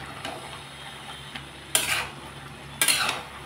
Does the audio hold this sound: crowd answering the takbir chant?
no